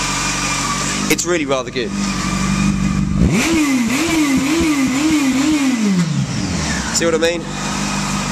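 A Honda CB900F motorcycle engine idles, then revs up and down in several rising and falling surges, loud and close, with someone talking before and after.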